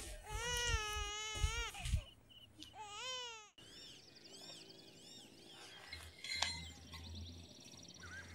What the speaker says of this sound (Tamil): குழந்தை அழுது, என்னன்னு பார்ப்போம்.